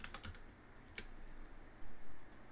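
Computer keys tapped to enter a disk command, a quick burst of clicks, then a pause and a couple of heavier keystrokes.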